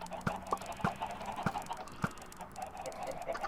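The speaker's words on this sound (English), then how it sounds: "I'll empty the dispenser out, and we end up getting, obviously, a bunch of chickens" Chickens released from a dispenser in Minecraft, a few short clucks spaced irregularly, faint and close, over quiet background noise.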